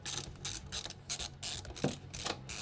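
Ratcheting clicks from a screwdriver backing out the four screws holding a power supply in a PC case repeat in quick, uneven bursts, close and fairly quiet, with no talking.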